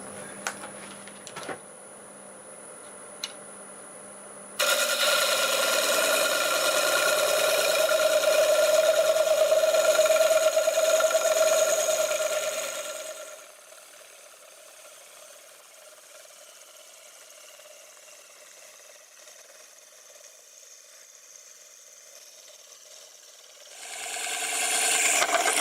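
Saw cutting through a wood-turning piece at a template angle, a loud steady grinding whine running for several seconds then cutting out to a faint hum, with a brief return at the end.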